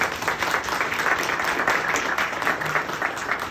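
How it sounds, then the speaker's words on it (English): A crowd at a post office Love Stamp unveiling in Romeo, Michigan gives the district manager a round of applause, a continuous, full-bodied clapping that holds steady from start to finish. "please stand up for a minute and get a round of applause"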